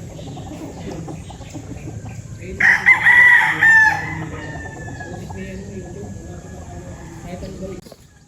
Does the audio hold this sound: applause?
no